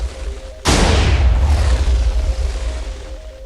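A huge chain of TNT blasts in Minecraft erupts in one sudden, loud boom, then rolls on as a long rumbling roar that slowly fades.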